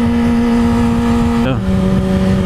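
A car engine revs high at about 8,000 rpm while cruising near 39 in second or third gear with non-stock gearing, a loud steady whine that dips sharply midway and settles at a lower pitch.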